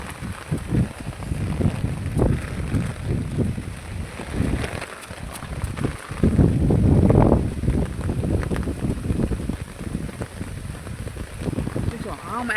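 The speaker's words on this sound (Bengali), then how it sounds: "এই বৃষ্টিটা সেই টানছে এখন, ঝড়টা সেই দিচ্ছে এখন ঝড়টা" Stormy wind gusts through rain-swept mango orchard trees at Chamtala on a dark afternoon, a steady rushing roar with louder surges, while a person talks over it.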